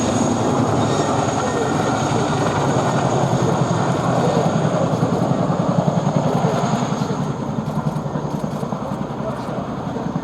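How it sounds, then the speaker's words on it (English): An RAF Boeing Chinook HC.2/4 twin-rotor helicopter flying a full display at RIAT 2016 produces a loud, continuous rhythmic rotor thump and engine roar, faintly receding toward the end. "The Chinook is known for being a powerful helicopter."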